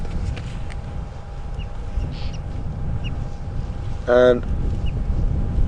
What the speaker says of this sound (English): the bird call you can hear now is the fork-tailed Drongo